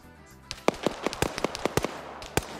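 A rapid string of sharp gunshot cracks, irregularly spaced, fairly close, with a final lone shot after a brief pause.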